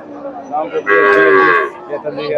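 A Friesian cross bull calf at a cattle market lets out one loud, close moo of about a second, with quieter lowing sounds around it.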